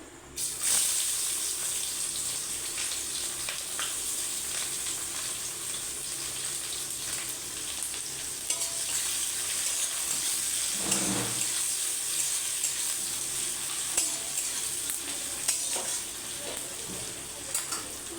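Onions frying in hot oil with curry leaves for spiced rice, a steady close hiss and sizzle that runs unbroken, with a brief dull knock of the pan partway through.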